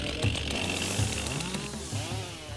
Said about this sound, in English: coming with the chainsaw